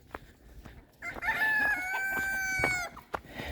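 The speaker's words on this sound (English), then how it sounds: "and the chickens will all eat it." A rooster crows in one long, clear call at close range on a busy homestead, with short clucks from a flock of chickens, including silkies and Wyandottes, around it.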